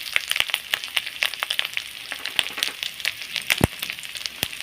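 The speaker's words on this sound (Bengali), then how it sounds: "চিংড়ি মাছটা মশলার মধ্যে দিয়ে দিচ্ছি।" Prawns and spinach sizzle in a spice paste in a hot pan, with steady crackling frying and bursts of spattering oil close up, no voices.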